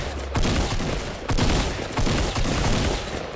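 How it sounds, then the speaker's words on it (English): Rapid bursts of gunfire from a Fortnite Battle Royale match, dense volleys of shots in clusters with brief pauses between them, loud and close. "Jeez, these shots are off today."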